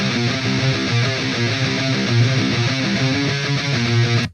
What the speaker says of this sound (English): Now I need some guitars, so I'm going to use the Will Putney amp simulator